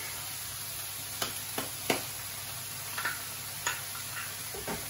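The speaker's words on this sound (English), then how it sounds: "Whack in the garlic" Garlic frying in a pan with leeks hisses softly and steadily, broken by a few sharp clinks of a utensil stirring, quiet and close with no talking.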